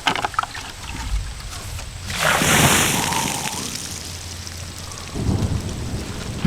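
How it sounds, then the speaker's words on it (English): Steady rain pours throughout while a loud, rolling rumble of thunder swells in the middle and slowly fades, with no voices. "I like that thunder."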